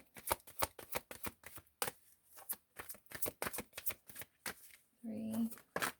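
A deck of cards being shuffled, a run of quick sharp riffling bursts in close succession with a person talking between them.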